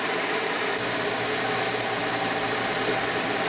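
A boat's engine running steadily after being restarted, a dense continuous broadband drone with a low hum, loud and unbroken throughout, with no voices.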